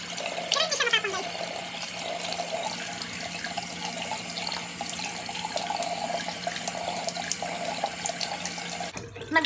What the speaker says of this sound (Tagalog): Banlawan na natin. Tapos, warm water pa rin, guys, yung gagamitin natin, ha?